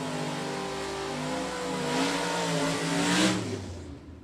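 A Super Stock drag racing car revs and launches down the quarter mile, its engine note climbing in pitch through rising gears and swelling loud as it passes, then fading away.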